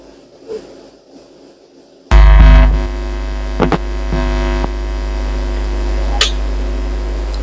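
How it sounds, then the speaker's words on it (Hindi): A window air conditioner switches on with a sudden loud electrical hum that settles into a steady drone, with a few brief clicks and rattles over the running unit. "अब एसी को हम क्या करने वाले हैं, ऑन करने वाले हैं।"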